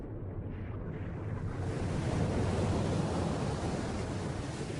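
Broad, rushing ocean surf swells steadily with a low roar, slightly buffeted by wind, and no voices.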